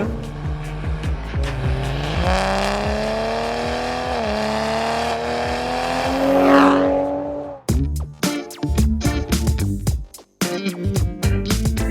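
A car engine, from a Toyota Supra with a 2JZ engine or a Nissan 350Z, revs loudly in a long rising whine, then sharp bursts of throttle blips and pops follow in quick succession.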